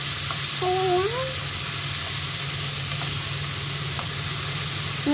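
Spices and aromatics sautéing in a full pot for squash and eggplant with shrimp paste, a steady close sizzle and hiss with a low hum, a few faint clinks, and a brief whistle-like tone.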